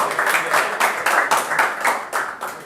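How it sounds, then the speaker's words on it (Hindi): A stand-up comedy audience in Kanpur claps loudly to welcome a comedian, giving a dense, steady burst of applause with rhythmic surges throughout. "भाई जोरदार ताली बजा के वेलकम करो यार"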